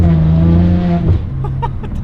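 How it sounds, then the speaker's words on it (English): Ferrari 599 GTO V12 engine roaring close and loud, its steady drone dropping abruptly mid-way as the gear changes, followed by rougher lower revving. "downshifts, and shifting up all day long"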